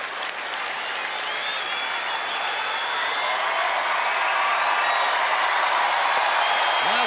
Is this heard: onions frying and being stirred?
no